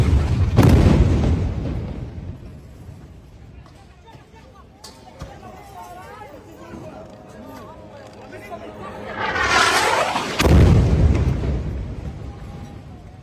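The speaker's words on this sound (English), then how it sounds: "Journalist Ahmed Ibrahim captured the explosion on camera." A large blast destroys the 12-floor Al Roya commercial building, with a heavy, loud boom at the start and another roaring burst near the end, plus rumbling debris and crowd noise in between.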